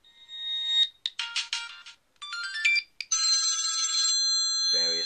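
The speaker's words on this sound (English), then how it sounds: "But I can choose between several ringtones here." A Windows Phone 7 plays several short ringtone samples, bright electronic melodies and chimes that start and stop in quick bursts with brief silences between them.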